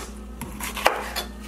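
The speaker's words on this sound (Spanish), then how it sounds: "Voy a empezar partiendo los vegetales." Knife work on vegetables in a home kitchen while preparing chicken fajitas, with a few light clicks and one sharp tap against the cutting board over a low steady hum.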